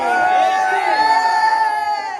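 A dense crowd cheering and shouting at a Krishna Janmashtami Govinda celebration, a loud, continuous wash of overlapping high voices and whoops, near and sustained throughout.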